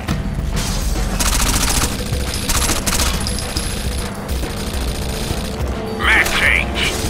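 Dense game gunfire from Rainbow Six: Vegas, a steady fusillade of rapid shots and mechanical clatter running through the whole stretch, with voices calling out over the shooting.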